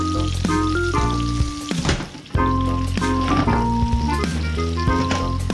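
Minced onion fries in a pan, a steady sizzle running under prominent background music throughout, dipping briefly near the middle.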